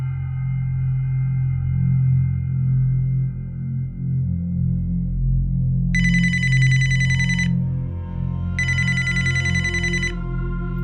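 A telephone rings twice in bright electronic bursts, each lasting over a second, over a low steady hum in the background.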